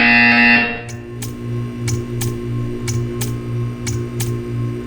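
In Portal 2, a harsh electronic buzzer sounds briefly at the start, followed by a droning machine hum with regular ticking pulses repeating about twice per second.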